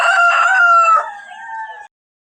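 A rooster, an organically raised chicken suffering from a cold, crows once loudly and close by, a long sustained call that trails off and then stops abruptly into silence.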